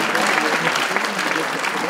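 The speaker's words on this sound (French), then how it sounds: "On peut l'applaudir, on peut l'encourager." Audience applause at a French tourism round-table event, dense continuous clapping that stays loud and steady throughout, with some voices mixed in underneath.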